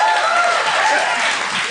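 A live audience applauds in a steady, dense wash of clapping that runs loud and continuous through the short stretch.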